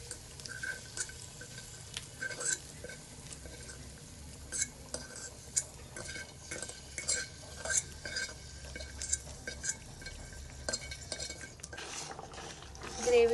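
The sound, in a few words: stirring fried paneer into the pea gravy in a pan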